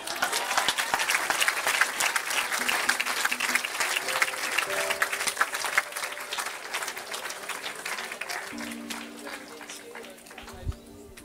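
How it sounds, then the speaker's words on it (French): A church congregation at a healing service in Evry claps and cheers loudly and steadily, with voices mixed into the dense applause that slowly tapers toward the end. "On acclame le Seigneur."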